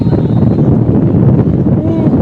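Strong wind buffets the microphone in a continuous low roar, loud and rumbling throughout.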